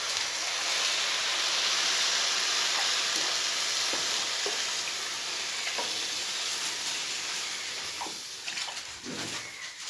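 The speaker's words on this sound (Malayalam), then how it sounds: "ഇനി ഇതിലേക്ക് ഞാൻ 1 ലിറ്റർ പാലാണ് ഒഴിച്ചു കൊടുക്കുന്നത്" About a litre of milk is poured into a hot pan of sautéed flattened rice for an orange payasam and stirred, setting off a loud, continuous sizzle and bubbling hiss with occasional scraping of the spoon, fading slightly toward the end.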